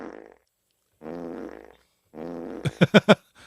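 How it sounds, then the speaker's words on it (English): A soundboard plays a fart noise: three low drawn-out blasts, then a rapid run of sharp sputtering pops, loud and close with gaps of silence between. "have a fart noise on the soundboard"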